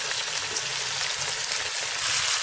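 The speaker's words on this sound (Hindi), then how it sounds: "चिकन को मैं फ्राई कर रही हूँ।" Chicken sizzles steadily in hot oil in a pan while being fried for an Eid chicken korma, a close, continuous crackling hiss with no voices.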